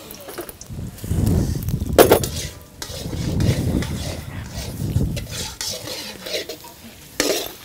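Urad dal, with chana dal, being stirred in hot oil in a pan, giving a close, steady scraping and sizzling in several bursts with a short sharp clink partway through and no talk.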